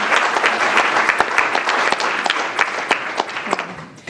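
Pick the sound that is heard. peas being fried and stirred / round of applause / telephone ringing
round of applause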